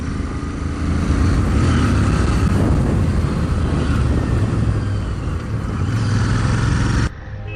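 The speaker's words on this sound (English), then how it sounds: "Push the throttle, the 650cc engine now produces 47 bhp and 52 Nm of torque" A Royal Enfield Interceptor 650 twin with its 650cc engine under throttle gives a loud, steady, close exhaust drone that holds for about seven seconds before dropping off abruptly.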